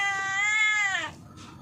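A single drawn-out cat meow, close and clear, rising slightly and then sliding down in pitch before trailing off into quiet room sound.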